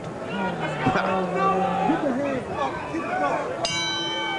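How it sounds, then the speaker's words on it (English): At a WBC super featherweight title fight, a boxing ring bell rings once sharply near the end to start the fourth round, its bright ringing tone following crowd noise and overlapping talk. "Bell sounds to start this, the 4th round of a scheduled 12-rounder"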